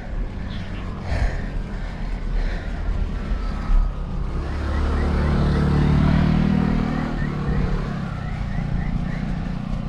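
A motorcycle passes on a mountain road in Taiwan, its engine swelling to a broad, fairly close roar around the middle, then fading, amid ongoing riding and traffic noise.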